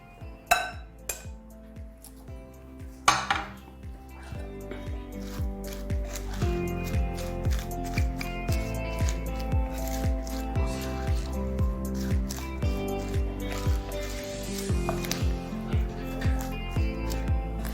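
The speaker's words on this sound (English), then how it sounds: "So what we're going to do is just mix all together" Breakfast salad ingredients tossed and mixed together in a bowl, giving repeated soft squishing and clinking of utensils against the dish at a steady rhythm, close and fairly loud, with no talking.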